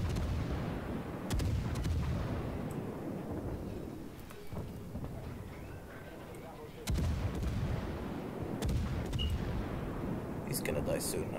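Repeated booming naval gunfire from a Leander-class cruiser in a naval warship battle game, heavy low rumbling salvos with sharp reports, loud and continuous, with a voice talking over them.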